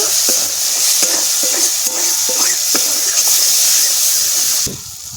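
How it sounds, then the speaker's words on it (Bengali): Ground spices including turmeric, cumin, sugar and garam masala sizzle steadily as they are fried and stirred in a pan for a pointed gourd and prawn curry, with occasional scraping strokes before the sizzle cuts off near the end. "গরম মশলার গুঁড়োটা দিয়ে ভালো করে কষিয়ে নেব।"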